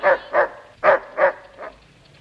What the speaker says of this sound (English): at that silly old dog chasing birds.